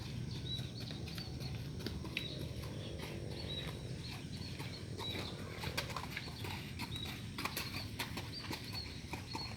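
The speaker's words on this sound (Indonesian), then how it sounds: "Nah ini ada seekor kuda lagi ya yang mau berlatih" Racehorse walking at a horse-racing training track in Sumedang, its steady clip-clop hoofbeats moderately close over constant outdoor background noise, with occasional bird sounds and no talking.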